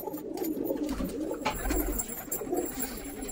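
Pigeons coo in soft, low, murmuring calls, several birds close by, steady throughout with faint rustling around them.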